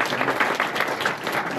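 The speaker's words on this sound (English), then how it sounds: "and now applause for Sohrab" Brief, steady applause from a meetup audience in Amsterdam, a dense wash of many hands clapping at once, moderately loud and heard alone.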